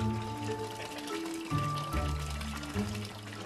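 Warm mineral spring water running from the Bäckerbrunnen thermal fountain in Wiesbaden, a soft steady trickle and splash heard fairly close and quiet, with a faint tonal hum in the background.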